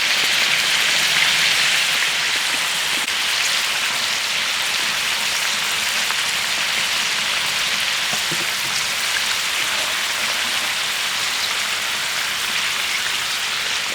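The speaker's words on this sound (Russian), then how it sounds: "Пошел гранат." A coot cooks in a hot pan as pomegranate goes in, giving a steady, dense sizzle and crackle that holds evenly throughout at close range, with no voices over it.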